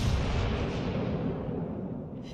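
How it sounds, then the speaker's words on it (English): Heavy gunfire and explosions as a battleship is destroyed in the World of Warships Legends naval combat video game, a loud, dense rumbling burst that slowly fades, with no voices. "Enemy battleship destroyed."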